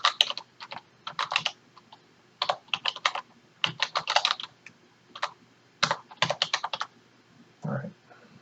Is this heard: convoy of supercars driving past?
no